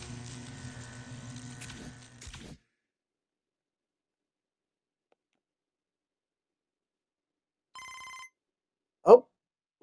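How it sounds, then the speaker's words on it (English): A telephone bell rings in the video game MLB The Show 25, a short, sharp ring standing alone after a quiet gap, following an earlier stretch of faint background sound. "Oh, looks like we're getting a phone call here from Stephanie."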